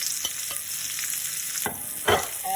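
Onions going into a pot of softened peppers for a Philly cheesesteak, with a steady sizzle of frying throughout and a few scrapes and clatters as they are stirred in, close by.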